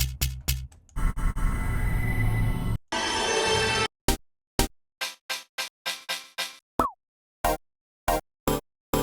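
A run of short percussive sample hits, dense and layered at first, then sparser isolated plucky and pitched blips with silence between them.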